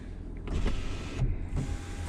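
The electric panoramic roof of a Ford Kuga Vignale motors open with a low, steady whirring hum and a couple of soft mechanical clunks as it moves, heard close inside the cabin with no talk.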